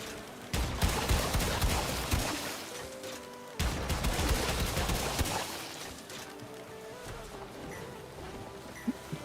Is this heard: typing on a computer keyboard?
no